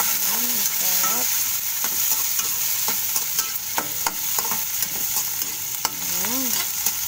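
Ginger frying in a pan, stirred with scraping strokes over a constant sizzle, close by, with brief bits of voice-like sound at the start and end.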